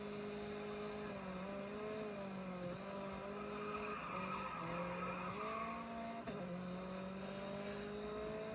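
A race car in GRID Autosport skids and spins out, its engine droning at a steady pitch under a long, continuous tyre squeal that wavers and surges for several seconds.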